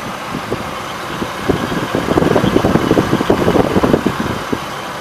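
A 1999 Chevrolet Astro cargo van's 4.3 liter V6 runs at a steady idle, a close, even rumble with light rhythmic ticking, heard alone.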